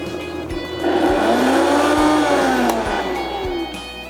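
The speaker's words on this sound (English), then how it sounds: "Puree it until it's smooth." A blender purees lima beans with butter, its motor whirring loud and steady with rising and falling pitch sweeps as the mix thickens, plus a few sharp knocks.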